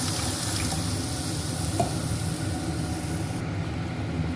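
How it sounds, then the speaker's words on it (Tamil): Tamarind water pours into a hot pan of fish curry with a steady rushing splash and sizzle, then the pouring stops and the pan settles into a quieter simmer. "புளி தண்ணி ஆட் பண்ணிக்கலாம்."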